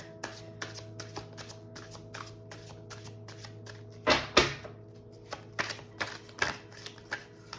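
An oracle card deck is shuffled by hand in a quick run of crisp riffling snaps. Two louder bursts break the rhythm, all close and alone without talk.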